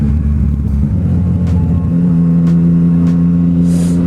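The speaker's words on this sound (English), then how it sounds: "this has got the Aquapovic full race system on it. I'm a bit of a one for exhaust" A 2016 Yamaha XSR900 motorcycle with an Akrapovic full race exhaust is heard while riding. A close, loud engine drone shifts to a steadier higher note midway, with faint knocks of wind or road and no talk.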